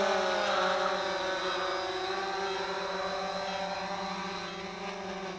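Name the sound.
Cheerson CX-20 drone flying in to land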